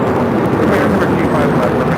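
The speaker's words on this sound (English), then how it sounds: "This is Delta Airlines 811 taking off to Miami, Florida on a 737-900ER" A Delta Airlines Boeing 737-900ER taking off at LAX, a loud, steady roar of jet engines with broad rumbling noise, continuous and close.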